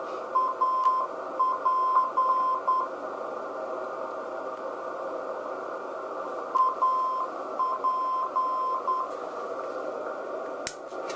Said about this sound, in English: here's the AP NDB. I'll let it go through a couple cycles, coming in loud and clear with the phaser out.